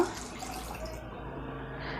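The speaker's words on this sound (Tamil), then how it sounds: "2 கப்பு தண்ணி ஊற்றிக்கலாங்க." Water poured from a cup into a pot while making kolukattai, a steady soft trickling and splashing stream running throughout, fairly quiet and close.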